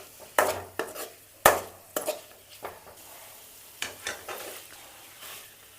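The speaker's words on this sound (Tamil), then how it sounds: "எண்ணெயிலே லைட்டாக வதக்கிக்கோங்க," Small paneer cubes sautéing lightly in oil in a pan, soft sizzling with a scattered series of clinks and scrapes from a spatula stirring them, close and with no voices.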